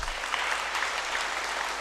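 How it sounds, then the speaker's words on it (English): Audience applause fills a church service, a dense, steady wash of clapping from many hands at close range, holding at an even level throughout without voices. "Visitors, let's clap for our visitors."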